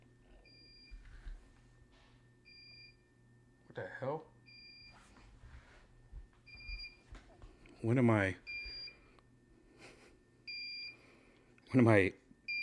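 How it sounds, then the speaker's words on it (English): An electronic tech gadget sounds short, high, regular beeps over and over, while someone talks loudly in bursts between them. "top 10 things is beeping at me"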